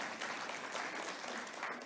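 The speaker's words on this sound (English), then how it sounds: "Can we give him a round of applause" Audience claps for one of its members at a business talk, a short, soft patter of applause heard from a distance, steady for under two seconds.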